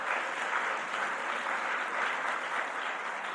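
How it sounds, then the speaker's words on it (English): A crowd at a university event welcoming a congressman breaks into rousing applause, a thick, even wash of clapping that holds at a steady loud level throughout without voices. "give him a rousing round of applause right now"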